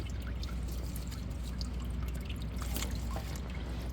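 Coolant dripping and trickling from the cylinder of a 1989 Honda Pilot engine during a rebuild, the head bolts removed, a steady close wash of liquid patter with no talking.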